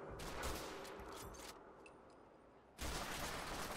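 An automatic weapon fires in the video game Fallout 4, producing dense rapid bursts that are loud and close. The fire stops briefly, then resumes.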